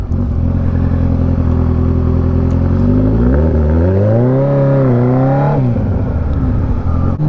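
Kawasaki ZX14R sport bike revving loud and close, engine pitch climbing in stepped rises and dips as the quick shifter snaps through gears, then dropping back to a steady idle rumble.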